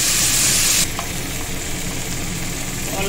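Cauliflower and egg curry masala sizzling steadily as it is stirred in the pan, a loud broadband frying hiss that drops slightly after the first second and continues evenly, with no talking.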